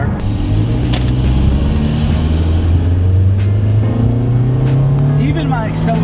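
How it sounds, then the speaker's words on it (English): A car engine runs under load as the vehicle accelerates, its loud, steady drone climbing gradually in pitch, while a person speaks over it. "I get to hear my motor, I get to hear it be nice and gentle and happy"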